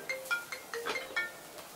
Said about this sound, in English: I've got a phone call.